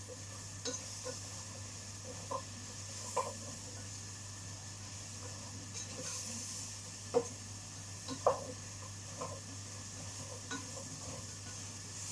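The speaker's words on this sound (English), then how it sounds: "I'm just mixing it in together a minute." Chopped cabbage and mushroom being stirred in a pan, with a soft, faint sizzle and occasional light clinks and scrapes of a utensil against the pan, close by and quiet, without speech.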